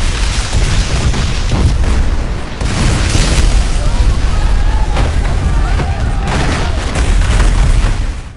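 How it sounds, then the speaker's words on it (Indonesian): A movie palace blown apart by a planted bomb: a sustained, loud, rumbling blast with crackling debris and repeated booming surges filling the whole stretch, low end dominant throughout. "Barney langsung meledakkan bom yang dipasang sebelumnya"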